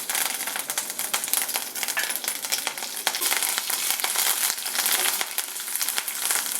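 Curry leaves dropped into hot oil in a frying pan crackle and spit in dense, uneven pops over a steady sizzle, fairly close and without talk.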